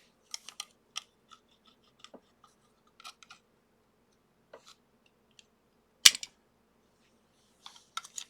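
Sparse, faint snips and clicks of a cutting tool trimming excess wire off a small electric jumper-cable alligator clip, with quiet gaps between them and one sharper cut near the end.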